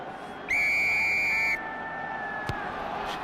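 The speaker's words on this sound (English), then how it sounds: "Firm peep on the whistle" A referee's whistle at a rugby kick-off between Newcastle Falcons and Sale Sharks gives one firm, loud, steady blast of about a second over crowd noise.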